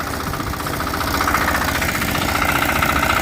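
A 9-horsepower walk-behind tractor engine runs steadily and close by, with a continuous mechanical drone, a knocking pulse and vibration, carried to a harvest of pumpkins and heard alone.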